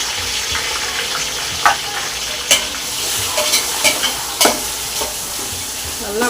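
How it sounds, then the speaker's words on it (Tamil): Onions stirred and sautéed in hot oil for restaurant-style mutton biryani, a steady close sizzle broken by several sharp scrapes and clinks of the spoon against the pan. "நல்லா கோல்டன் ப்ரௌன் ஆகிற வரைக்கும் நல்லா வதக்கிக்கணும்."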